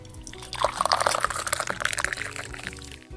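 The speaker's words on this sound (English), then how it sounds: "Next, you pour enough water to cover them up" Water poured onto candies lined up on a plate, a close splashing pour lasting a few seconds before trailing off into drips.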